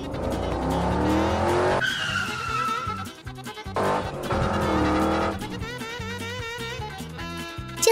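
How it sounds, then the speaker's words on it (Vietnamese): A car drags a motorbike along the road, with loud continuous scraping and grinding mixed with tire squeal and engine noise, rising and falling over several seconds. "Chiếc xe máy đã bị chiếc ô tô kéo lê đi trong bất lực."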